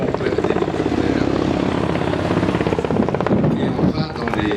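A Kamov Ka-52 attack helicopter flies a display at the 2013 Le Bourget air show, its rotor throbbing in a loud, steady beat with engine whine that holds throughout.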